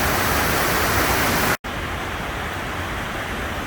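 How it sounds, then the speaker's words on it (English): Falls Creek in Girdwood, Alaska, a forest stream heading toward the ocean, roars as a loud, dense, unbroken rush of water, cut by one momentary dropout partway through. "Another view of Falls Creek as it runs out down towards the ocean"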